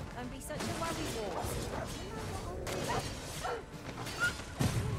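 Dogs bark, yip and whimper in the fantasy video game Dogma, the sounds scattered and fairly distant under a steady din of game noise and voices.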